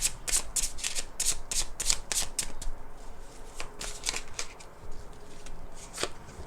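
Tarot cards riffle-shuffled by hand at close range, a quick run of crisp ruffling bursts followed by a few sparser flicks and taps in a quiet room.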